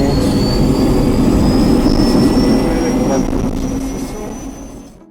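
A helicopter turbine engine winds up on the ground before a flight in the Swiss Alps, a loud steady roar with a rising whine that slowly fades toward the end; a voice speaks briefly over it.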